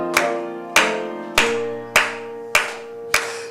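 A Korean church congregation claps together in time while singing a hymn at a Wednesday prayer service. Six crisp, evenly spaced claps land about every 0.6 seconds over sustained sung and organ-like tones.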